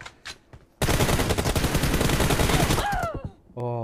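Rapid automatic gunfire in a shooting video game, a dense, loud burst of continuous shots lasting several seconds after a few scattered single shots, then fading into brief voice sounds.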